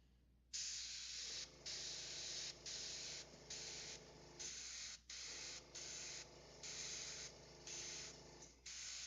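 An airbrush sprays thick black-gray paint, a steady close hiss in repeated bursts of about a second each, separated by short pauses as the trigger is released.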